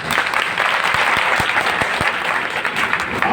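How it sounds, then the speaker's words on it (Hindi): An audience claps steadily at a Guru Purnima religious festival at an ashram in Chitrakoot, Madhya Pradesh, a dense, loud, continuous round of applause with no talk. "एक बार तालियां बाबा जी के लिए।"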